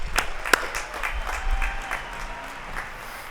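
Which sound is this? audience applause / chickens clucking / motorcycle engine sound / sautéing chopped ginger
audience applause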